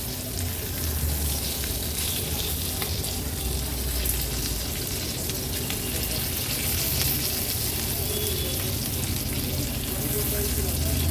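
Stuffed capsicum peppers fry in a pan with a continuous, even sizzle and crackle, close and steady for the whole stretch, no voices heard.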